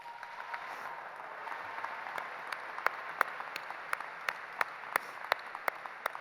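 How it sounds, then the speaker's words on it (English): A community college commencement crowd applauds to recognise the staff, a fairly distant, steady wash of clapping with crisp individual claps popping out, slowly building over several seconds in a large hall. "round of applause."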